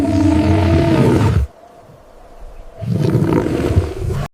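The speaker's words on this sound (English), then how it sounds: "A lion roars in the distance and the sound echoes across the plains." A lion roars across the open plains of Ruaha in Tanzania, a deep, loud roar with a long rumbling tail. It breaks off into a quiet gap, then a second roaring call follows, with no voices present.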